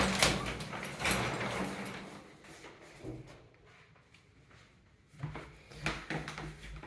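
Double doors of a linen closet in an old Charleston, West Virginia house slide and bump open, a few soft knocks and rubs followed by a quiet gap and more handling noise.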